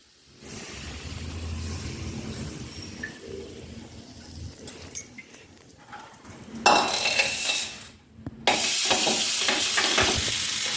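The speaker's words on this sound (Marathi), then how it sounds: "सर्व मिक्स करून घेऊया आणि हाताने व्यवस्थित चोळून घेऊया" Hot oil is worked by hand into matar kachori dough, a steady rustling, squishing churn close by, broken by sharper sizzling bursts and a brief pause, with no talking.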